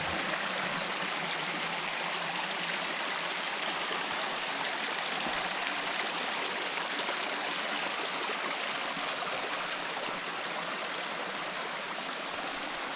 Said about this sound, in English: I have this whole stream so often to myself.